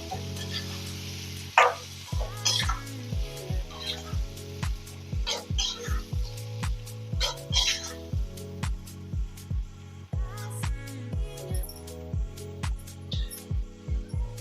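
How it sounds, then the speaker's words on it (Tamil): Rhythmic wet stirring and scraping as cooked amla is mixed into pickle masala, a series of short regular clicks and squelches close by, with no talk. "இப்போ இந்த நெல்லிக்காவை இதில் நம்ம சேர்த்துக்கலாம். நல்லா மிக்ஸ் பண்ணிக்கோங்க."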